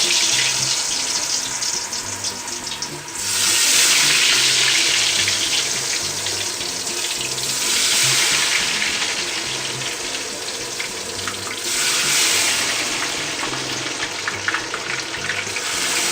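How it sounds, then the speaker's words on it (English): Fish for a Scottish fish supper fries in hot oil, a steady loud hiss and sizzle that rises and falls in waves, with no talking. "And we're gonna let this fry for about 5 minutes."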